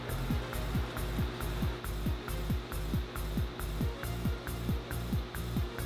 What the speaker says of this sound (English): tighten the barrel nut down